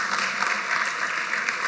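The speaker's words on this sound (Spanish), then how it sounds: "un aplauso" A church congregation breaks into a short, bright burst of applause during a pastor's sermon, many hands clapping together at close range for under two seconds.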